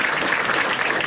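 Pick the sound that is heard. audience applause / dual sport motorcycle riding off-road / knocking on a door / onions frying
audience applause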